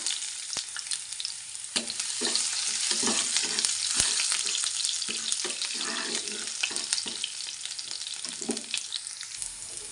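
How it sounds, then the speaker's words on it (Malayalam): Mustard seeds pop and crushed garlic fries in hot oil for an okra and potato dish, a loud, continuous sizzle with clinks of stirring and scattered crackles. "കടുക് പൊട്ടി വന്നിട്ടുണ്ട്. ആ ടൈമിൽ ഇതിലേക്ക് ചതച്ച് വെച്ചിരിക്കുന്ന വെളുത്തുള്ളി കൂടി ചേർത്ത് കൊടുക്കാം."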